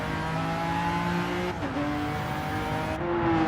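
A mid-engine, four-wheel-drive Honda NSX laps the Catalunya circuit in Gran Turismo 7, its engine a steady, loud drone with rising and falling revs and brief gear-change dips, alone with no talk.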